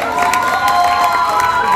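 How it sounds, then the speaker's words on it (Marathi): A short burst of crowd cheering and clapping at a music event, loud and close, with excited shouts. "जोरदार टाळ्या होईल जाऊ देत"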